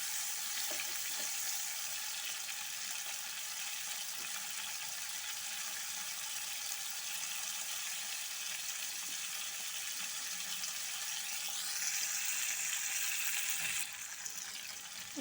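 Prawns for an Assamese prawn curry fry in a pan of oil, giving a loud, steady, dense sizzle with crackling spatter that holds evenly throughout, brightening slightly near the end.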